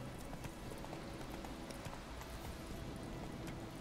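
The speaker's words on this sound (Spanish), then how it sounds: "No puedes saltar el caballo." Steady clip-clop of a horse's hooves in The Witcher 3, a quick repetitive trotting rhythm, fairly faint and continuous with no talking.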